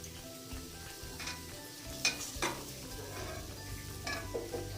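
Carrots frying in a hot pan for fried rice, a steady soft sizzle under repeated scraping stirs, with a couple of sharper metallic clinks of the spoon against the pan.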